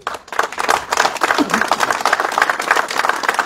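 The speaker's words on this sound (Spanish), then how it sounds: "quiero pedirle un fuerte aplauso para los concejales municipales" Assembled townspeople at a public works inauguration give a round of applause for the municipal councillors, a lively, fairly loud burst of many hands clapping that carries on for a few seconds.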